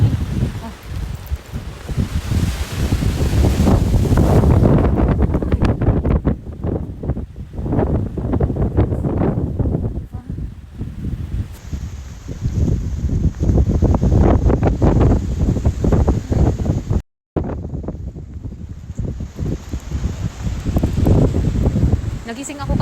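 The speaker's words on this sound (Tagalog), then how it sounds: "ang lakas ng hangin." Strong, gusty wind buffets the microphone outdoors, a loud continuous low roar that surges and eases throughout, with a brief dropout near the middle and someone speaking at moments over it.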